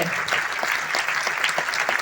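A crowd claps loudly and continuously, a dense wash of applause with no pauses.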